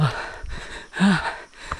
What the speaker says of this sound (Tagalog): grabe hingal ko